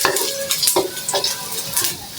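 Chopped garlic sizzles steadily in hot cooking oil in a pan, a close, continuous frying crackle broken by occasional scrapes and clinks of a utensil stirring, with no talking.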